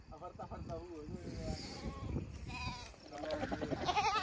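Sheep, with goats nearby, bleat at a rural spot where they are kept overnight, giving several wavering calls close by while people talk over them.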